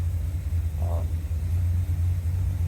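A 1981 Corvette engine idles with a steady, loud, low rumble that holds evenly throughout, running slightly rich after a tune-up.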